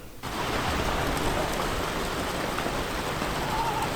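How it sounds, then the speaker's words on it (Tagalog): Heavy rain pours steadily in an outdoor camp spot in Danao, Cebu, a dense, loud, unbroken wash of drops that sets in abruptly and continues without pause. "At dito na nga nagsimula ang napakalakas na ulan."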